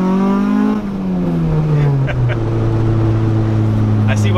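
K-swapped Acura Integra GSR engine droning loudly inside the cabin while cornering, a steady low tone that dips and settles as the revs fall, with faint clicks above.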